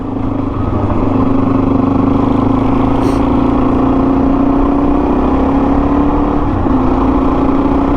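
A Suzuki DRZ motorcycle riding a dusty country road in Australia drones loudly and steadily close up, its engine pitch slowly climbing as it holds speed, with rushing wind noise underneath.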